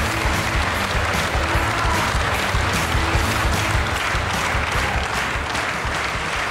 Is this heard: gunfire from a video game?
no